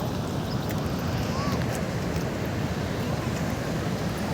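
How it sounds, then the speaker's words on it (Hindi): The Narmada river flows and rushes on the way to the Dhuandhar waterfall, with a constant broadband wash of moving water that stays loud and even throughout, mixed with some wind noise. "नदी कल कल बहती हुई"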